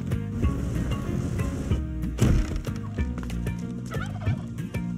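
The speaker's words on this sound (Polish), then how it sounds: "Kolejny indyk." Turkey gobbling from the Spelunky 2 video game, a run of rapid warbling gobbles repeating over several seconds amid busy game sound effects and thumps.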